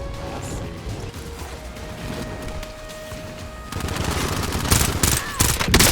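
Pistol fire in a Warzone pistol-only match sounds as sharp, rapid shots and mechanical clatter that build into dense bursts toward the end, loud and close over a busy game background.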